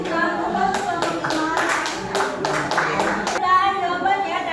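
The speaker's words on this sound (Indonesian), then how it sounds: "Kita beri tepuk tangan dulu untuk kelompok 2." A high school class at SMAN 36 Jakarta claps for a student group, a burst of many hands clapping unevenly for a few seconds, with a teacher's voice speaking before and after.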